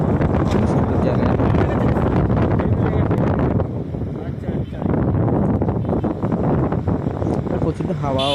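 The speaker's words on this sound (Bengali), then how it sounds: "প্রচন্ড হাওয়াও হচ্ছে।" Strong wind blows by the river at Sevoke near Siliguri, a loud, continuous rushing roar buffeting the microphone, with voices mixed in beneath it.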